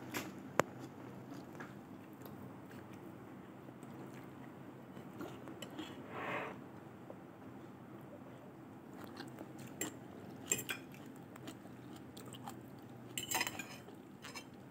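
Someone chews crunchy pak choy from a clay pot of Korean ramyun up close, with quiet bites and crunches and occasional clinks of cutlery against dishes, otherwise soft.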